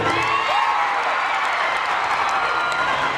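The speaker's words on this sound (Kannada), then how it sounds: "ಜೋರಾಗಿ ಇವರಿಗೂ ಚಪ್ಪಾಳೆ ಬರಲಿ" Dense, steady applause from a crowd at a mass marriage event in Sindhanur, with a few faint cheers mixed into the continuous clapping.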